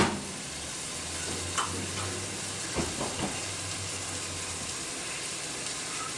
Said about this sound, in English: just keep stirring your onions